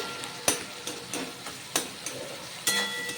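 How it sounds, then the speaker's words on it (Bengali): A spatula mashes and stirs softened onion and tomato in a pan for Bengali egg curry, giving a run of sharp, separate scrapes and taps at an uneven pace over a faint sizzle. "আমি স্প্যাচোলা দিয়ে একটু থেতো করে দিচ্ছি নেড়ে চেড়ে নিচ্ছি"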